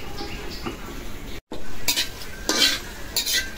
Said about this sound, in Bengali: ভেজে কালো করে নিচ্ছি